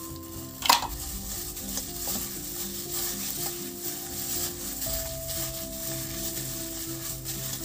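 Thick tofu cheesy stick mixture is stirred in a bowl in a home kitchen, giving a steady soft scraping and squishing with a few light clinks of the utensil, close by and moderately quiet, with no talking.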